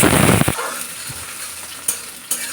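Potato pieces frying in mustard oil with dried chillies and black cumin for a Bengali-style vegetable dish: a loud, dense sizzle in the first half second, then a softer steady crackle broken by two short clinks of stirring.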